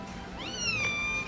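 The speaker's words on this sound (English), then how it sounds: "she has the most unique scream out of all my cats" A cat named Shadow lets out a single loud, drawn-out scream that rises and then bends downward, close by and alone, with no voices.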